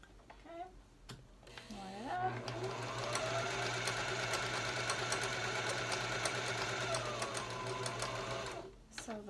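A sewing machine runs steadily for several seconds, stitching flat the ironed-over filter pocket edges of a batwing fabric mask, its even motor hum and rapid needle ticking starting and stopping cleanly with a brief voice at the start.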